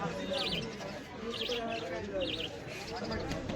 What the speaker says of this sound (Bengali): পাখিগুলো খাঁচার ভিতরে চমৎকার সুন্দর দেখাচ্ছে।